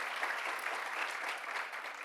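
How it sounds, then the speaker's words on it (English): An audience at a governor's event applauding, a dense, steady round of clapping from many hands with no voices over it. "Give yourselves a round of applause."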